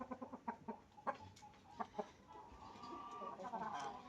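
A rooster gives a few short clucks, then lets out a longer, drawn-out crow, faint and at some distance.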